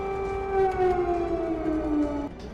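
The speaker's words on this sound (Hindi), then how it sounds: "24 घंटे तक व्हाइट हाउस में सायरन बजता रहा।" Air raid siren wailing, a loud, sustained tone that slowly glides downward, then drops away near the end.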